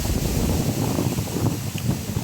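Steady wind rushes and buffets the microphone with a low, continuous rumble throughout.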